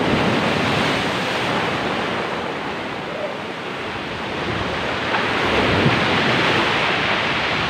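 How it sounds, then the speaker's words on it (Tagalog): Strong ocean surf at Kulasi Beach near Butas Butas cave, Mauban, Quezon province, roars continuously, a dense wash of crashing water close by, with wind rushing across the microphone. "malakas talaga ang alon dito."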